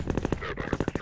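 Sniper rifle in Half-Life 2 with rapid, close gunshot bursts packed into a single second, partly overlapping a voice.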